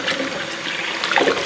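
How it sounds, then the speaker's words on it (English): Hot water is poured out of a pot of hard-boiled eggs in a short, steady splashing rush that lasts barely over a second, close and fairly loud. "Dump some of the hot water out."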